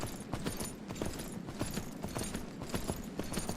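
Horse hooves clip-clopping in the video game Myth of Empires, a quick irregular run of many hoof knocks, moderately close and fairly quiet, with no talk over them.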